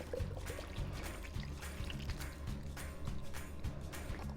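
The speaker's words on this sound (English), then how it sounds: "So I'm gonna put some of this stock in here, pour that in." Stock poured from a container into a pot of soup beans in a home kitchen, a steady liquid pour and trickle lasting several seconds at close range, with faint low kitchen hum underneath.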